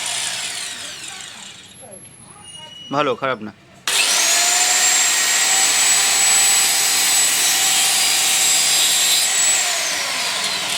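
A Hillgrove cutting machine slices through MDF board with a loud, steady high whine. Brief speech and clatter come first, then the cut starts abruptly and holds for several seconds at close range.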